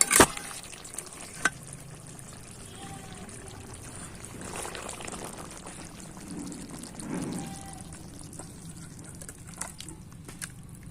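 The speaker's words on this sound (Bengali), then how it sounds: "তার আগে দিয়ে দিচ্ছি এই যে একটু গরম মশলার গুঁড়ো, এটা দিয়ে নেড়ে চেড়ে" Mutton curry being stirred in a pan after garam masala powder goes in, with a low sizzle and soft scraping strokes, a couple of sharp clinks near the start, steady and moderately close.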